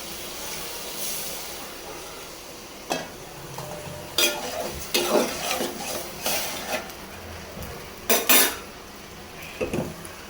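Prawns and spices frying together in a pan, a soft background sizzle broken by several sharp clinks and scrapes of a utensil against the pan, moderately close and without talk.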